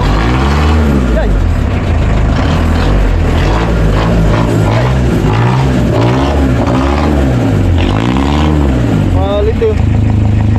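A boat engine running after being started, a loud close chugging motor with rising and falling revs throughout, while people talk over it.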